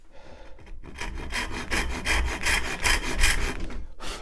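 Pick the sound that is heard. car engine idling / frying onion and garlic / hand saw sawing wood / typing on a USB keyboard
hand saw sawing wood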